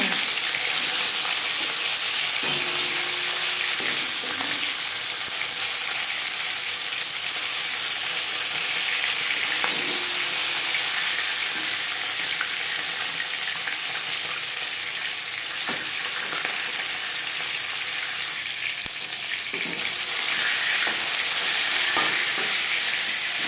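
Marinated tilapia pieces frying in hot refined oil give a dense, continuous close sizzle with a few stirring and scraping knocks, nearly free of talk.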